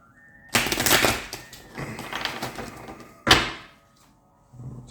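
A deck of tarot-style reading cards gets shuffled up close, two bursts of riffling and clattering with a sharp snap between, then quiet.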